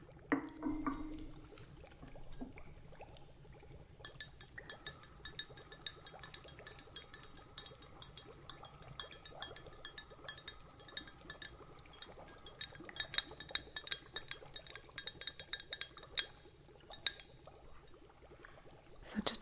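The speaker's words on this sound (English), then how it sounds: "Such a charming sound the glass makes." Glass clinks in repeated bright taps over a steady pour of liquid, close and fairly quiet, in the calm setting of a curio shop roleplay.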